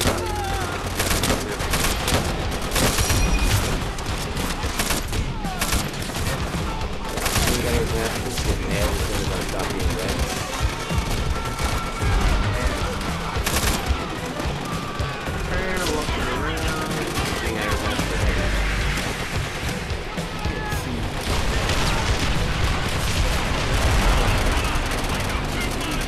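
Rapid gunfire in the World War II shooter game Call of Duty: World at War, dense bursts of automatic shots and booms packed continuously across the clip, loud and busy, with someone talking over parts of it.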